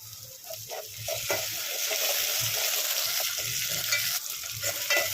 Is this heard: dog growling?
no